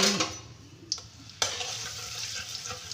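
Butter melting into hot white oil in a pan, a steady close sizzle with a sharp crackle near the start and a louder burst of frying about halfway, then continuous spitting hiss.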